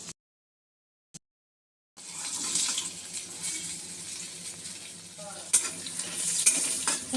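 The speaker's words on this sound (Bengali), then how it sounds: "তো চলি মাছ রান্না করছি, দেখাই আপনাদেরকে।" Pieces of katla fish fry in a pan with a steady sizzle that starts after a brief silence, with occasional sharp clinks and scraping as the fish is stirred, and no one speaking.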